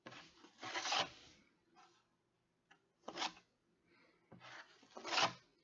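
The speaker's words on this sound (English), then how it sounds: "I'm using the other spatula to take off the excess off this one." A spatula scrapes excess plaster off another spatula in three separate rasping strokes, close and fairly loud, with quiet pauses between them.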